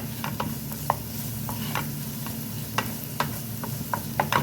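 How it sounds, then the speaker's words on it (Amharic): Garlic fries in oil with a steady low sizzle, punctuated by repeated sharp scraping taps of a utensil stirring the pan at an uneven rhythm, close and without talk. "እዚህ ጋር ነጭ ሽንኩርት እንደዚህ እንጠብሳለን።"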